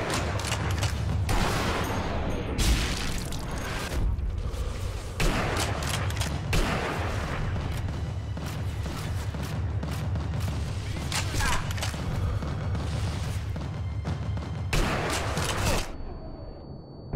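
Repeated gunfire and heavy shots crackle through a loud, busy battle soundscape in the video game Sniper Elite V2, with bursts spread across the stretch and constant rumbling underneath.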